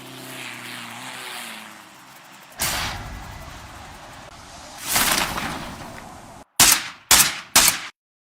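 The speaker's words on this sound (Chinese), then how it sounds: "包括最后的这个枪声，那些动作的音效，它也表现得比较好" Gunfire from a battle royale game on a Black Shark 4S phone speaker ends the clip as three loud, sharp bursts. Before them come a droning aircraft sound and two louder whooshing surges.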